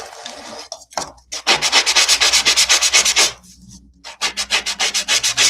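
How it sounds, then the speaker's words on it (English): A sponge sanding pad rubs over a painted wood door hanger in quick, rhythmic back-and-forth strokes, loud and close, pausing briefly once before a second run of faster scrubbing. "I'm sanding my tabletop."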